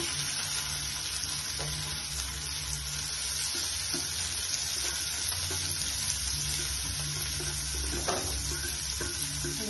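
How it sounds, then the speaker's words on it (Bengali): Mashed paneer being added to a pan and stirred while making paneer papad cutlets, with a steady low sizzle of frying under a few soft scraping and stirring knocks, close and fairly even throughout. "এভাবে চটকিয়ে নিচ্ছি, নিয়ে এখানে দিয়ে দিচ্ছি পনিরগুলো দিয়ে দেবো।"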